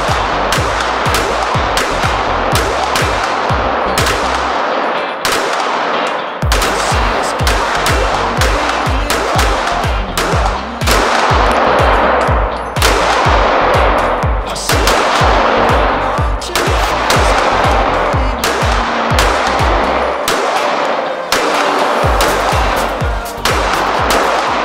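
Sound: gunshots from guns fitted with Olight weaponlights

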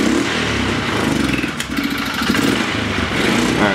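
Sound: Polaris Sportsman 500 ATV engine running and backfiring

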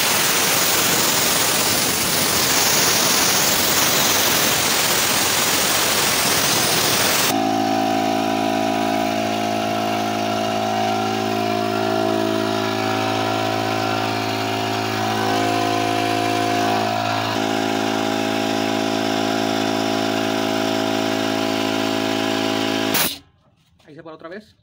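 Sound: Truper 50 litre air compressor releasing air and running

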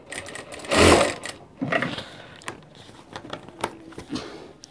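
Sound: sewing machine stitching a sherwani

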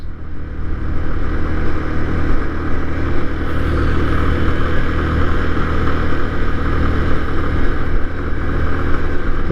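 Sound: motorbike riding on the Padma Bridge

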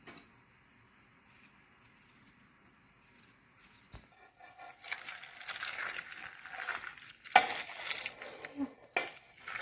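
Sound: pouring boiling salt water

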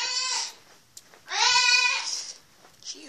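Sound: goat bleating

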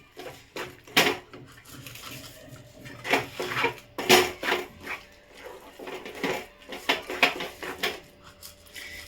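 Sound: stirring coconut sweet mixture in a pan

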